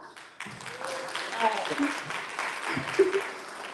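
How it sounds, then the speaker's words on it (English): Guests at a wedding anniversary celebration break into a short round of clapping that swells and then fades, while a voice talks briefly over it. "So those agree with me, give me a clap."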